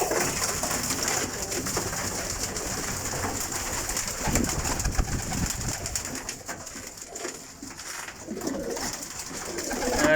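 Pigeons kept by a pigeon fancier coo repeatedly at close range, soft throaty calls rising and falling over a faint background hiss, with no one talking.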